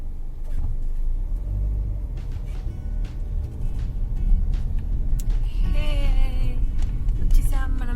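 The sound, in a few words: traffic jam on road near beach in Muscat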